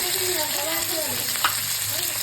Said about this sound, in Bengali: এদিকে মাংস বসাচ্ছি তেল দিয়ে দিয়েছি এদিকে পেঁয়াজ দিয়ে দিলাম